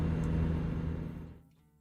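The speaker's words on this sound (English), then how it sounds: "truck I'm driving right now is a 52 Peterbilt." A 1952 Peterbilt truck engine in American Truck Simulator drones steadily with a low hum, then fades away toward the end, leaving near silence.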